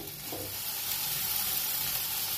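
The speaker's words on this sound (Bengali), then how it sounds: "দেখো এবার আমি ভেন্ডিগুলো দিয়ে দিচ্ছি এর মধ্যে।" Sliced okra (vendi) sizzling and frying steadily in a hot pan, a close, dense hiss that holds even throughout with faint stirring beneath and no talk.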